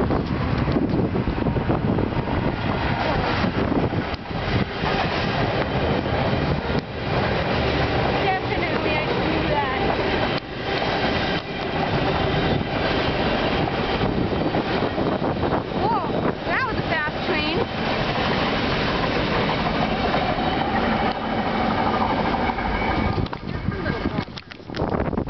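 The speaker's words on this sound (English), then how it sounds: "This is a CN train crossing." A CN freight train crossing in Winnipeg, Manitoba, rumbles steadily and loudly close by for the whole stretch, its roar mixed with heavy wind buffeting the microphone.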